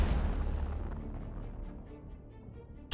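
Melter torpedoes striking ships in the space strategy game Battlefleet Gothic Armada II: a deep rumbling explosion fades slowly, then a sharp loud blast bursts in right at the end.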